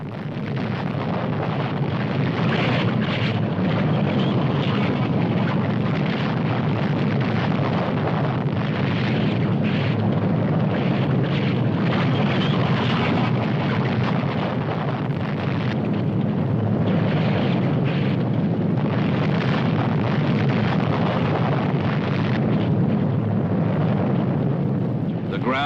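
An active volcano in the Congo erupting and spewing lava gives off a continuous, heavy roaring rumble that stays steady and dense throughout.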